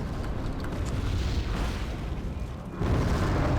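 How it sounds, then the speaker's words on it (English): Bombs dropped by MiG jets in Wargame AirLand Battle explode in a deep, rumbling roar that swells and then hits harder near the end, loud and sustained. "Okay, bombs away."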